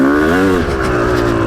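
A 1998 Yamaha YZ250 two-stroke dirt bike runs on a trail with the clutch feathered, its engine giving a loud, close, continuous buzzing drone whose pitch rises and then dips slightly over a brief stretch.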